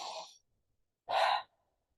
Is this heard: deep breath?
yes